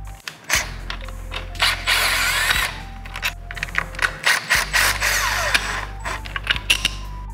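A ratchet clicks in quick, uneven runs while loosening a motorcycle chain tensioner, close up over a low steady hum, with a few metallic clanks of tools.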